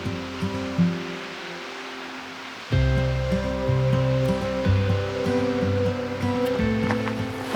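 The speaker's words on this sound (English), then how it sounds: "there's the waterfall below us" A waterfall on the Trail Canyon Falls hike, seen from the trail above, gives a steady broadband rush that carries on throughout, partly masked by louder tonal music that enters partway through.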